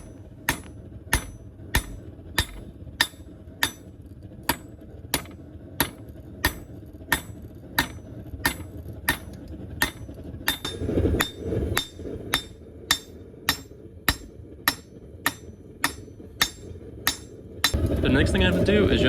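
Hammer forging a knife tang, sharp ringing metallic blows struck in a steady rhythm about twice a second, close and loud, with brief scraping and handling noise between strikes.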